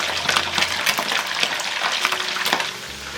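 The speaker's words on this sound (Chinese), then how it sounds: "油温5成热的时候，把里脊肉放进来炸" Pieces of pork tenderloin deep frying in a wok of oil at moderate heat over a medium-low flame, a steady close bubbling sizzle with crackly bursts, no voices.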